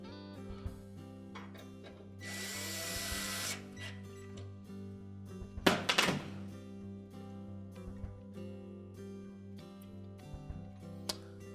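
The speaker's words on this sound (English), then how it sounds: "Install the 2 retaining screws." Retaining screws being driven into a Whirlpool range oven panel, with a short burst of driver whir, a sharp clattering buzz midway and scattered small clicks and taps over a low electrical hum.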